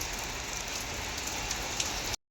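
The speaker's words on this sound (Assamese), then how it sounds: "এতিয়া এই বৰষুণ ৰখি আছোঁ" Steady rain falling during a monsoon-season outing in Assam, a dense continuous hiss of drops on surfaces, close and even throughout, with no voices.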